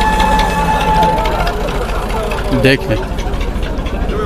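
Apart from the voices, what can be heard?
tractor loaded with cow dung, engine running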